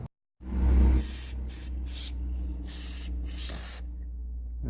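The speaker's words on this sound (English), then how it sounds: "I just blasted out the opening in there with this is just compressed air for like a keyboard" A can of keyboard compressed air duster sprays into a motorcycle fuel screw opening, a loud close hiss running several seconds with short, sharper pulses of spray on top.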